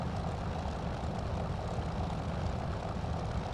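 Steady propeller engine drone of a P-40F Warhawk in Microsoft Flight Simulator, a continuous low rumbling roar held at even loudness with the throttle eased off on descent.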